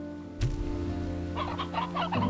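Chickens in the video game Slime Rancher 2 cluck in a short run of soft, close clucks after a sharp click, over a steady tonal background hum.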